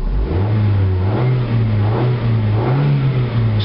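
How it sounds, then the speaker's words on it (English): A 2003 Ford Focus engine revs while the car sits stationary, close and loud, the pitch rising and falling in several gentle throttle swells over a steady running tone. "just sitting here and revving the throttle"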